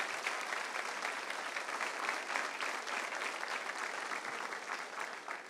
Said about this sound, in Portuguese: Se vai aplaudir, aplauda forte.